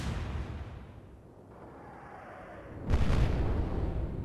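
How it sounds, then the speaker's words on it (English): Naval gunfire in the World War II game Atlantic Fleet: a low rumbling backdrop, then a sudden loud broadband blast near the end as shells strike and a ship explodes, with the roar sustained afterward. "Two hits and explosion."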